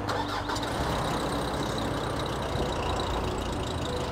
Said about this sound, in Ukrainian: Як він запуститься, спеціально він стояв холодний дуже багато часу.